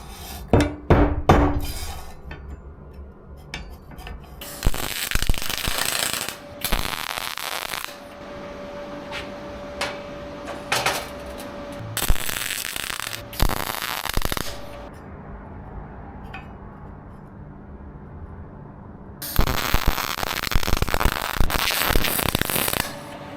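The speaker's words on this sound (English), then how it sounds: "we're going to go tack these into place" Steel pins are tack welded onto a finger press brake in short, loud bursts of crackling arc sizzle separated by quieter pauses with small metallic clinks.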